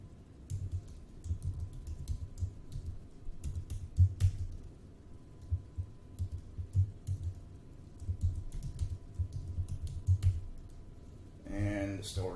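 Fingers type on a computer keyboard, a run of soft, quick key clicks in uneven bursts, close and fairly quiet, with a mouse-like click and a brief chime near the end.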